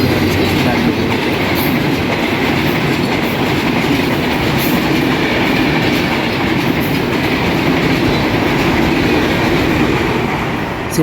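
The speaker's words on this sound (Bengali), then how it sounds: "ঢাকা থেকে ছেড়ে আসা চিলাহাটিগামী 765 সাগর এক্সপ্রেস এই মুহূর্তে চাটমোহর রেলওয়ে স্টেশনে 2 নম্বর লাইন থেকে চলে যাচ্ছে চিলাহাটি অভিমুখে।" Hauled by a 66-38 series locomotive from Dhaka toward Chilahati, the 765 Sagar Express rolls past on line 2 at Chatmohar railway station with a loud, steady rumble and continuous clickety-clack of wheels on rails, close by throughout.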